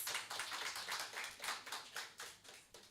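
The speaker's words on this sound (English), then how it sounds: "Can we give her another round of applause, please?" An audience at a law seminar applauds, a steady patter of many hands clapping, fairly faint and distant, with no speech over it.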